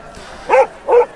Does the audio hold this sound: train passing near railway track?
no